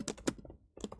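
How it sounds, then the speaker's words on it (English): Typing on a laptop keyboard during a coding contest, with a quick run of close clicky keystrokes, a brief pause, then another burst of taps. "I am talking while typing, which also obviously makes it just slightly slower."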